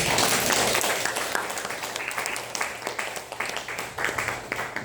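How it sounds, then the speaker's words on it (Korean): Audience applause in a Korean lecture hall for their parents, a dense burst of clapping that is loud at first, then thins into scattered claps. "여러분들의 부모님을 위해서 크게 박수 한번"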